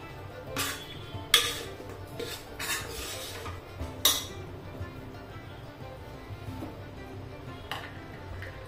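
Food sautéing in a pan over low heat, with a faint background sizzle and several sharp clinks and scrapes of a spoon against the pan spread irregularly, close and without talk.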